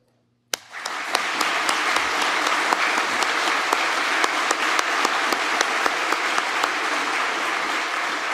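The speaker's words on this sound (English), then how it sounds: "Can I please get a round of applause for our support?" Sustained applause from a graduation audience at a fire academy recruit class ceremony, starting abruptly and continuing steadily with scattered sharper claps, dense and fairly close.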